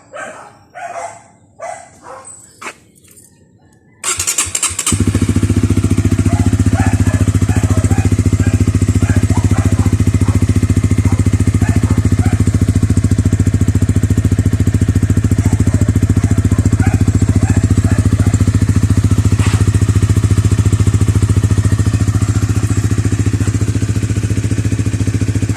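A Honda RS 150 motorcycle with a Mody5 racing exhaust muffler starts after a few seconds of quiet background sounds, then idles loudly and steadily up close with a constant throbbing drone.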